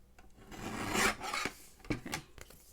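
A Diamond Press holiday embellishment box kit piece is trimmed up close in a few quiet, soft rasping strokes with short pauses between them.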